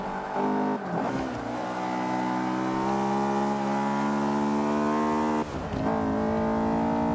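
Race car engine in the Forza video game braking hard and downshifting to second gear for a corner, a loud continuous engine tone with a dip near the start and another near the end as revs drop and recover, no voices.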